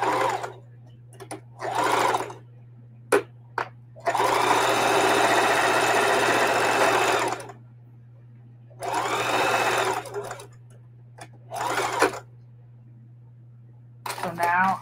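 Sewing machine double-stitching an upcycled denim crossbody bag made from old jeans: several bursts of rapid whirring, one long run of about three seconds among shorter ones, over a steady low hum and quiet pauses.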